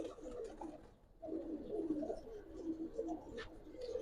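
Giribaz pigeons coo softly and repeatedly, close by, in steady throaty phrases that pause briefly after the first second before resuming.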